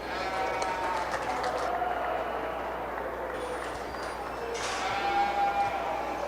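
Market lambs bleating in a large echoing show ring at a county fair 4-H/FFA sheep show, over steady crowd murmur and a voice on a loudspeaker.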